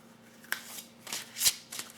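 Oracle cards being shuffled by hand at close range, a few quick riffling bursts with short pauses between, crisp and fairly quiet, no talking.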